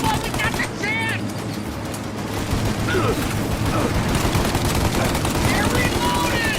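Rapid bursts of automatic gunfire and single shots crack through a Mafia Definitive Edition shootout, dense and loud, with voices shouting over the battle.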